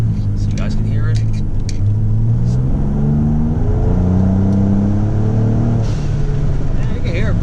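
A 2020 Ford Raptor fitted with AMS boost tubes accelerates hard, its engine note rising in pitch through stepped gear changes, heard loud from inside the cab with someone speaking briefly.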